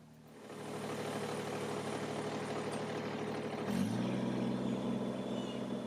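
Compact Kubota BX23s tractor runs steadily with a medium engine drone, dragging a tree stump by a chain; the engine note shifts and rises slightly near the end as the load changes, loud and close with no talk.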